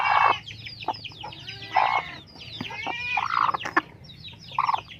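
Brooding hen sitting on eggs, giving repeated close clucks and drawn-out throaty calls in irregular bursts, with soft low background noise between them.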